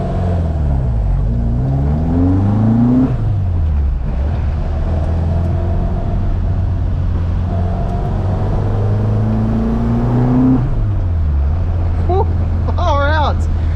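A Ford Mk1 Escort, an ex-rally and ex-race car, revs hard through the gears on the move, its engine note climbing and dropping in repeated sweeps, loud and close inside the cabin with someone talking over it.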